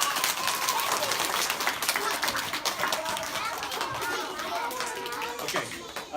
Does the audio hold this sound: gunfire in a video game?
no